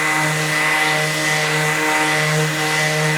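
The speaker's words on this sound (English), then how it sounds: "turn sander on, it will sync up so you have your dust extraction" A Festool electric sander with synced dust extraction runs steadily and loudly, a constant whirring drone with no talk over it.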